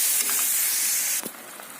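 Grated coconut stirred into hot melted jaggery gives a steady broad hiss for over a second, then it drops sharply with a brief stir clatter and a quieter sizzle continuing, close and alone.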